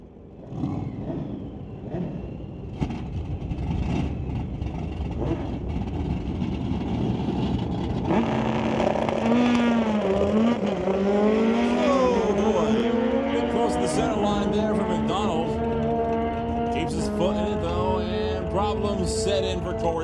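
Drag racing motorcycles, the Black Lightning Hayabusa and the Wild Racing Kawasaki, rev and launch at a drag strip. Loud, rising engine whines sweep upward under a race announcer's commentary, with crowd and track noise throughout.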